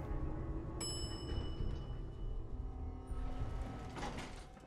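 Elevator doors slide open in the video game Fallout 4, a soft mechanical whoosh within a steady, low-level hum of game ambience, no voices.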